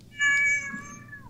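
A cat gives a single clear, drawn-out meow, close and fairly loud, its tone sliding gently downward as it fades over a low background hum, with no talking.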